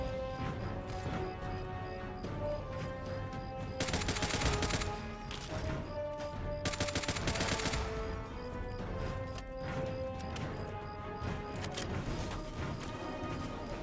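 Rapid gunfire in Fallout: Tale of Two Wastelands, crashing bursts clustered in two dense volleys with scattered shots between, loud and continuous over game ambience.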